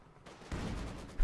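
An MG42 machine gun in the Company of Heroes 2 strategy game fires a rapid, dense burst of rattling shots that sets in abruptly and swells louder near the end, with no voices over it.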